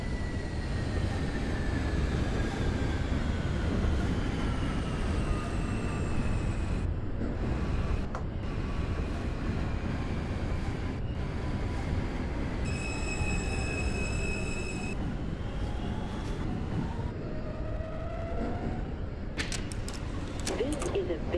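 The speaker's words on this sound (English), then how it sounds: "This is a Bay Ridge 95th Street bound R local train." An R160 subway train on an R local run in the OpenBVE simulator, a steady loud rumble of wheels on rail with squealing tones and a brief chime, an announcement voice over it.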